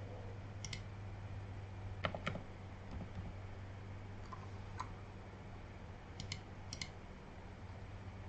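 Quiet, sparse clicking of keys as someone types on a computer keyboard, a few light taps clustered together in an otherwise hushed room with a low steady hum.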